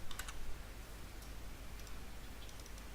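Password being typed on a computer keyboard during a software install, a quick burst of soft key clicks near the start and a few scattered taps later over a low steady hum.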